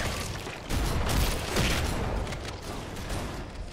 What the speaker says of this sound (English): Oh god, I hear a shotgun.